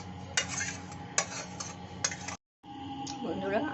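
Mutton for mutton kosha is tipped into a metal pressure cooker with repeated sharp clanks and scrapes of a spoon against the pot, a brief silence, then more close metallic scraping.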